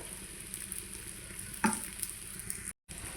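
Onion, green chili, ginger and garlic fry in coconut oil for a mackerel curry, giving a soft, continuous sizzle with a brief louder hiss partway through, heard faintly with no talking.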